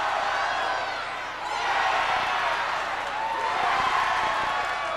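Studio audience on The Price is Right shouting advice together, a sustained mass of overlapping voices that dips briefly and then swells again.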